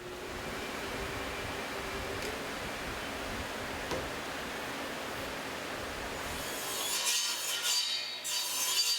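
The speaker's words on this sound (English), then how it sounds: "This is the side profile being cut out on the bandsaw." A bandsaw cuts the side profile of a basswood surf scoter decoy head, a steady rasping, rubbing blade noise under a motor hum, shifting to a brighter, harsher hiss in the last two seconds; no talking.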